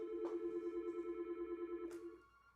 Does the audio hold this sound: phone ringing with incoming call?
yes